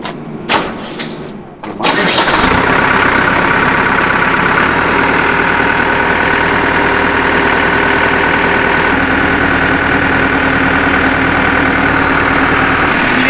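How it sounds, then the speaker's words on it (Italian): A tractor engine catches after a few rattling start attempts, then settles into a loud, steady idle that runs close and continuous to the end. "Piglia il trattore."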